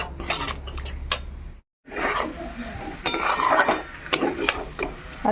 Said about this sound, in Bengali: এর মধ্যে একটু টক দই দিয়ে ভালো করে মশলাটা আরেকবার কষিয়ে নিচ্ছি।